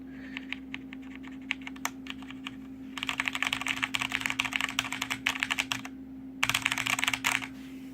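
Typing on a mechanical keyboard with Cherry MX Red switches, heard up close as quiet, irregular keystrokes that speed into fast, dense clattering bursts over a steady low hum, with no talking.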